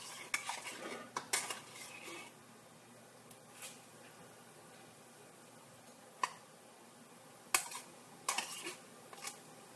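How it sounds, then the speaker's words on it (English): Homemade salsa with tomato paste being stirred in a pot, a spoon scraping and knocking against the metal in scattered clinks and taps, close and clear with no talking. "Give it a good stir."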